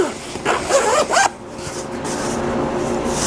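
A bag's zipper is pulled shut in a few quick rasping strokes up close, followed by quieter rustling and background noise.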